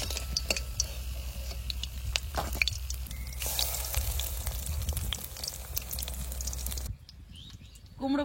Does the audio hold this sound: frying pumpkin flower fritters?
yes